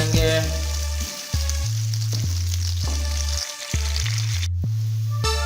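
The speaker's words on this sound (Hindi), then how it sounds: "अभी उसके अंदर हम एक अदद काटा हुआ प्याज ऐड कर देंगे और गोल्डन ब्राउन होने तक फ्राई कर लेंगे।" Chopped onion frying in ghee, a steady close sizzle that runs throughout with a few scraping stirs and a low hum underneath.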